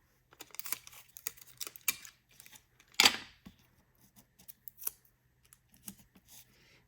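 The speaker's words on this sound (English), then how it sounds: "we're gonna just use a little bit of Scotch tape" Scotch tape is pulled off a roll during card making, heard as scattered small crackles and clicks with one louder rip of tearing tape in the middle, quiet and close in a still room.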